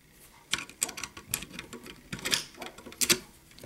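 A key turns in a seven-lever Ilco safe door lock, drawing the bolt back with a quick run of small, close clicks and ticks, faint and irregular.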